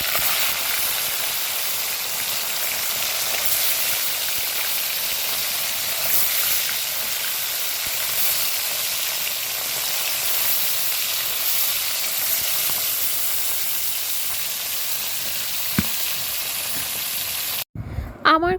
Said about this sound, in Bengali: তারপরে আমি তেলটা গরম করে মাছগুলো ভেজে নেব।